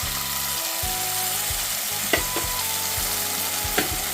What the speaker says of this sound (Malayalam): നമ്മളിവിടെ റെഡിയാക്കി വെച്ചിരിക്കുന്ന പുളിവെള്ളം അതിലേക്ക് ഒഴിച്ച് കൊടുക്കണം